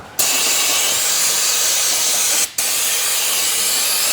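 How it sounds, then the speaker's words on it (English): Brake cleaner sprays in a loud, close, steady hiss onto a Nissan Pathfinder's front wheel hub, two long bursts separated by a brief pause. "you're gonna take some good quality brake cleaner and clean all this up"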